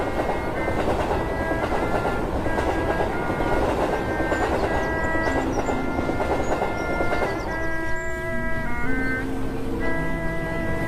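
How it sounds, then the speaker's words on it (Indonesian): A crowded steam train departs for Tanjung Priok in 1928, its wheels clattering in a steady rhythm along the rails beneath layered sustained whistle tones that shift and step downward, loud and close throughout. "Kereta api penuh sesak, berangkat menuju Tanjung Priok."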